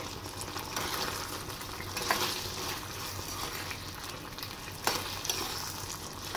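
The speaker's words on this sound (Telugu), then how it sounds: "ఇప్పుడు ఈ సాసులన్నీ బాల్స్కి పట్టేలా ఒక 5 నిమిషాలు ఇలా కలుపుకుంటూ వేగించుకోవాలి." Rice manchurian balls are stir-fried in sauce in a pan, giving a steady, loud sizzle with repeated scraping stirs and no voices.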